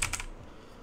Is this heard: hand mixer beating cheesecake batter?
no